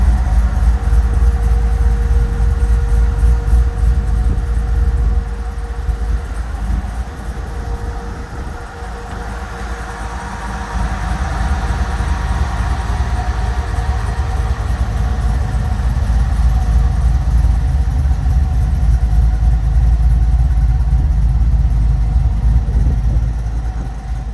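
A 1976 Chevrolet Impala wagon engine running steadily, a continuous low rumble with a faint hum, holding an even level throughout with no talk.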